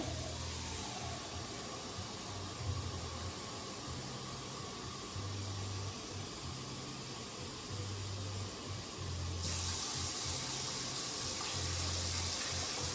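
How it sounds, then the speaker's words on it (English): Continuous rush of water pouring steadily into a pot of vegetables for beef vegetable soup, growing a little brighter partway through, with a low intermittent hum underneath. "what I need to add is some water"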